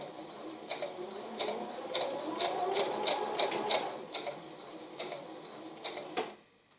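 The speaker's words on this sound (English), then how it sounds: "sew on to where these lines intersect again" Sewing machine stitching a quilt, a close, steady mechanical whir with rhythmic ticking needle strokes that runs continuously before stopping abruptly near the end.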